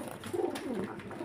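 Pigeons kept for flying coo softly nearby, a brief rolling cooing phrase in the middle of the moment with faint background noise.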